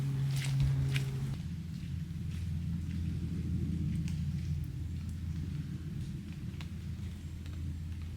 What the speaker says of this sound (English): it rained all night and it is still raining